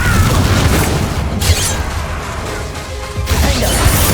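Loud booming blast and crashing impacts from spell combat in Hogwarts Legacy, a Confringo fire curse erupting amid a dense, continuous barrage of game effects, with sharp bursts near the start and end.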